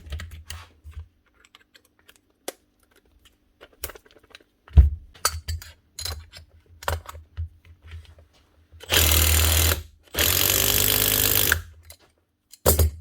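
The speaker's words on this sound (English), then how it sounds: "One Makita DTD154 brushless impactor with a new front gear casing" Repaired Makita DTD154 brushless impact driver with a new front gear casing, run in two loud bursts of about a second each, preceded by scattered handling clicks and taps on a workbench.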